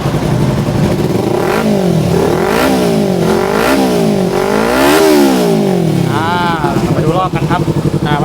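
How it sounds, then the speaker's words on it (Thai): A 2015 Kawasaki Z300 ABS motorcycle engine revs up and down repeatedly, rising and falling in pitch, loud and close, with someone talking over it. "อ่าเรามาฟังเสียงท่อกันดีกว่านะครับ"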